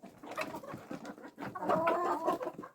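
Hens on a home farm cluck softly and repeatedly in short, irregular bursts, close by and fairly quiet, with no talking.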